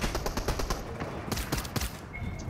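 Rapid pistol shots crack in a shooter video game, a loud, close, dense volley of repeated bangs that thins out toward the end.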